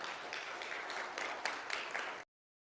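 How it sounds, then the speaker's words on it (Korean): Congregation applause at a church retreat's closing worship service, honoring Pastor Kim Dong-hyun after his sermon; dense, steady clapping from many hands for about two seconds, then cutting off abruptly. "은혜로운 말씀 전해주신 우리 김동현 목사님께 뜨겁게 박수하시겠습니다"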